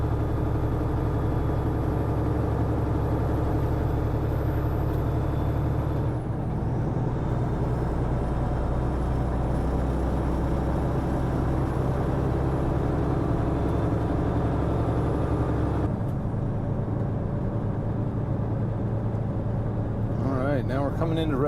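Cab sound of a heavy haul truck rolling loaded with a Terra-Gator fertilizer spreader at 11'6" wide, a steady loud low engine drone and road rumble throughout, shifting in tone partway and easing toward the end.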